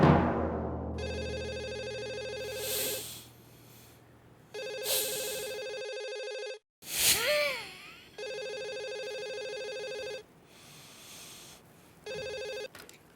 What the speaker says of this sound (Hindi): तू फोन लगा पुरुषोत्तम भाई को